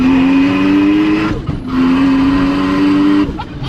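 A Toyota Supra MK4 on new tyres in cold weather accelerates hard, its engine note loud and close, climbing steadily in pitch, with two brief dips at the gear changes before it pulls again.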